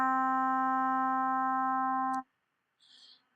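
Synthesizer tone shaped by a sustaining amp envelope: a steady, loud harmonic note holds evenly for about two seconds, then cuts off abruptly, followed by a faint brief noise burst.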